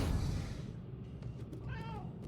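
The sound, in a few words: cat meowing in video game Murdered Soul Suspect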